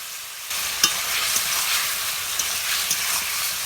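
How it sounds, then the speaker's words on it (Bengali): Fried potatoes drop into spice masala in a pan for a snakehead fish curry, bringing a sudden dense sizzle that carries on steadily, with a few light stirring knocks. "এবার আমি এতে দিয়ে দিচ্ছি ভেজে রাখা আলুগুলো"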